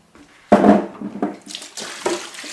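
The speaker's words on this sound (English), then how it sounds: "Just giving them a bit of a rinse." Running tap water splashes over vegetables being rinsed clean for an Irish stew, a close, steady gush with a few brief sharp surges, with no voices.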